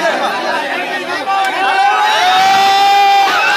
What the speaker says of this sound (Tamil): இங்கே கரகோஷத்தை உங்களுக்கு கேட்குதுன்னு நினைக்கிறேன்